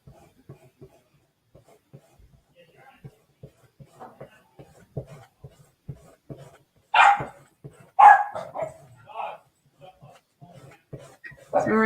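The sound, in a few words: dogs barking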